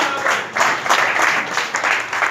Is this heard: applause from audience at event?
yes